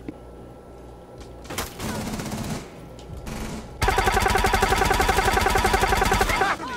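Gunfire in Rainbow Six Siege gameplay, a few scattered shots and then a long, loud sustained burst of rapid automatic fire near the end, with no talk over it.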